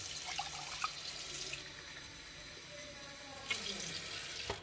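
Water pours steadily into the reservoir of a Karaca Hatır coffee machine, a close, continuous splashing trickle with a few brief louder gushes near the start and end.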